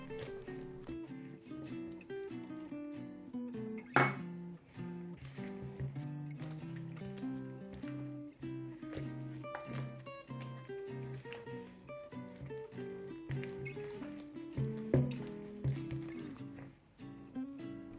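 Soft, wet squishing and stirring sounds repeat unevenly as a very soft dough for Karelian pies is mixed, with occasional louder squelches.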